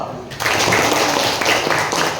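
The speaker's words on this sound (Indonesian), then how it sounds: "Tepuk tangan dulu" An audience at a school in Toli-Toli breaks into clapping that sets in after a brief lull and carries on steadily at moderate volume, with a voice audible underneath.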